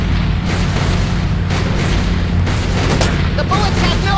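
Gunfire of bullets being shot comes as dense, heavy booming bursts over a loud rumbling background, with overlapping shots.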